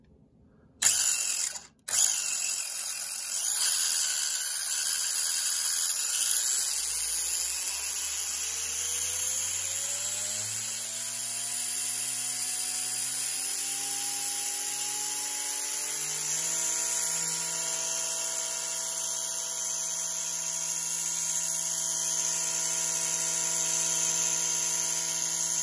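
A Losi MiniB RC car's 7800kv brushless motor with a 28-tooth pinion spins its wheels: after an opening click and thump, a thin electric whine rises smoothly for several seconds, then holds at a high steady pitch over a faint hum.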